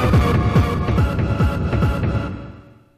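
Hardcore track built from a 909 kick, tom, crash, vocal sample and melody: pounding, distorted kicks in a steady fast beat with bright synth layers, fading out at the end.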